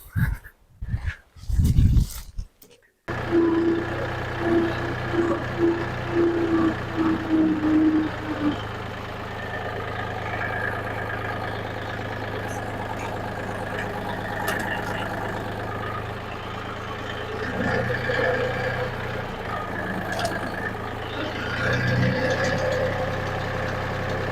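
A mini tractor pulling a one-wheel potato digger through a field runs with a steady mid-pitched engine drone for most of the stretch, after a few brief louder knocks and rattles at the start.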